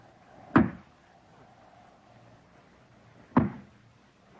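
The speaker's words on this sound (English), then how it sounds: "Who's knocking? Who's there?" Two sharp knocks on a wooden door in an old-time radio mystery play, spaced about three seconds apart, each a single heavy thud standing out against a quiet background.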